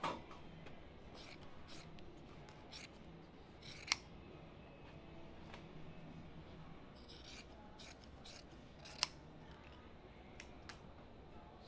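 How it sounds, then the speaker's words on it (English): Scissors snip repeatedly through excess carpet in a series of close, crisp cuts with rough rubbing between them, two sharper clicks standing out, no voices. "Then you can take your carpet and cut your excess off."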